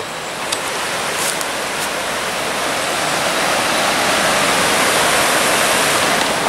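A river rushes in a steady, full-bodied wash of flowing water that holds even and fairly loud throughout, with no voices over it.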